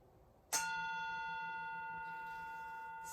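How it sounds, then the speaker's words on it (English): A gong is struck once during a yin yoga session. A sharp metallic hit is followed by a long, even, shimmering ring that fades only slightly, with no talk over it. "And when the gong goes,"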